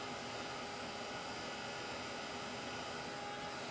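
Steady, loud whooshing roar of a heat dryer blowing over chalk paint on a craft piece, holding a constant broadband hiss throughout with no talk.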